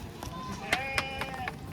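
Goats bleat at the Longowal goat market, a few short wavering cries rising over a murmur of crowd chatter and nearby voices.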